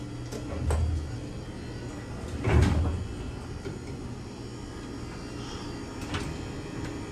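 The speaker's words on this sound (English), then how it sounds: "What's going on with the door?" Door of a vintage 1968 Southern traction elevator with a metal bumper, a slow door with a fault, gives a few dull rumbling thuds and a louder sliding clunk mid-way, then quieter rattles in a hollow space.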